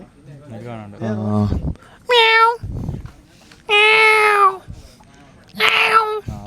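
A cat meows three times in clear, loud, drawn-out cries, with people talking between the calls.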